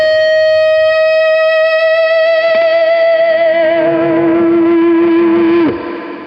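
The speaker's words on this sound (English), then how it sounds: "With the Bad Monkey on, we get a bit more push to it, so a bit more sustain." An electric guitar runs through a Bad Monkey overdrive pedal into a Peavey Classic 30 amp. A single loud sustained note rings with warm, slightly distorted harmonics and a chorus-like shimmer, then a lower note holds and fades out, with no talking.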